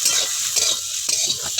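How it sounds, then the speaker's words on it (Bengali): Chopped beetroot and pumpkin peel are stirred in a hot frying pan. A steady close sizzle runs throughout, with the scrape and clatter of the spatula against the pan and no speech. "কিছুটা নেড়ে চেড়ে নেব।"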